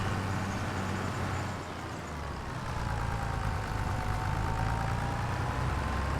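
A John Deere tractor in Farming Simulator 25 pulling out onto a road, its engine a steady loud rumble that dips briefly and then rises as it accelerates, with a faint whine climbing in pitch.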